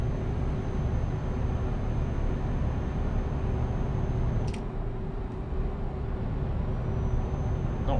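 A loud truck engine drones in Euro Truck Simulator 2, a dense, steady low rumble with constant hum throughout, briefly dipping near the middle.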